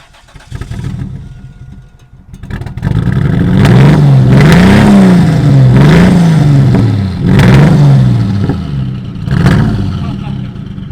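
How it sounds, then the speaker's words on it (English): A Toyota Supra's engine rumbles loudly at idle with a deep, lumpy throb that swells and dips in slow pulses, sounding like a big V8 close by. "It sounds like a V8 when it's idling."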